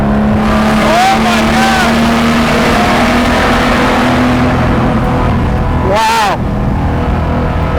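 Lamborghini Jarama V12 engine revving inside a tunnel, loud and close with echoing reverberation, rising and falling revs and a sharp blip near the end, while a person exclaims over it.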